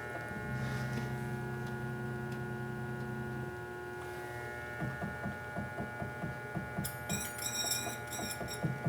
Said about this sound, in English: And then I'll spin it up slowly and then bring it down until it just touches.